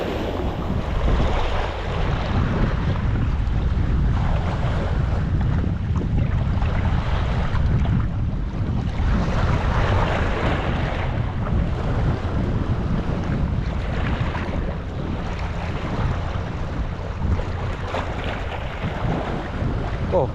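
Strong wind roars against the microphone at the Tanjung Pinggir coast while rising ocean waves surge and break, forming a loud, continuous wash of surf and gusts with no pauses throughout.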